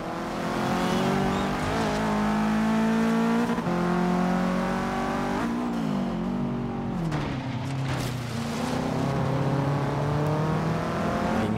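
A 2015 Subaru WRX STI races at night on a forest coastal circuit in the video game Forza Horizon 3, its engine droning loud and close with rising and falling revs, gear shifts and brief dips as it corners.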